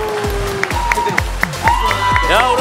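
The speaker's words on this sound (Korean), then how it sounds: "다시 한번 뜨거운 박수" Applause from the studio audience of a Korean TV quiz show swells into a steady patter, mixed with bright musical stings and sound effects throughout.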